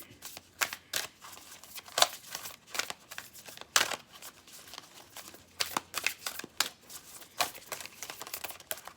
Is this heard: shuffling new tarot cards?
yes